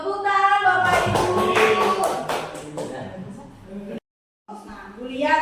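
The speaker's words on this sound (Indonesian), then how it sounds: "Tepuk tangan Bapak Ibu." Audience clapping hands in a room, with dense loud clapping mixed with voices and chatter, a brief silent break near the end, then voices resume.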